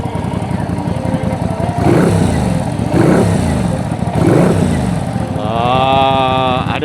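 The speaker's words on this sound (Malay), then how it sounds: "V-twin 2 cylinder engine dia ada rasa." Thunder Custom LS250-S bobber motorcycle with a V-twin two-cylinder engine running close by, a steady throaty rumble rising in three throttle swells, followed near the end by a rising whine from a passing vehicle.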